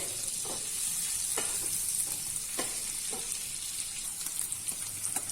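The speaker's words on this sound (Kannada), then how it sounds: "ಇದನ್ನು ಸ್ಲೋ ಫ್ಲೇಮಲ್ಲಿ ಫ್ರೈ ಮಾಡಬೇಕು. ಈ ರೀತಿ ಫ್ರೈ ಮಾಡೋದ್ರಿಂದ ಬಟರಲ್ಲಿ ತುಂಬ ಟೇಸ್ಟಿಯಾಗಿ ಬರುತ್ತೆ." Food fries in butter on a slow flame in a pan for paneer green peas pulav, a steady soft sizzle with occasional stirring clicks and scrapes, close and fairly quiet.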